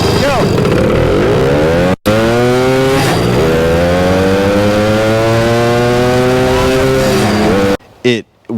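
A 75cc two-stroke minibike engine screams loud and close as it races off, its pitch climbing through repeated revs for several seconds before cutting out and sputtering near the end.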